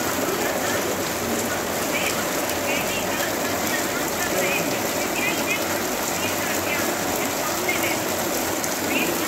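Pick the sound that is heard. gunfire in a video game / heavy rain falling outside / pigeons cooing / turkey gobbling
heavy rain falling outside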